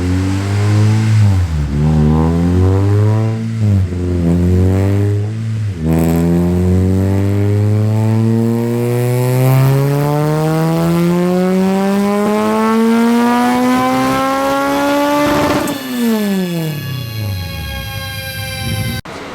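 A car engine on a dyno revs in a few short bursts, then climbs in one long, loud, rising pull before dropping off sharply and building again, with no talking.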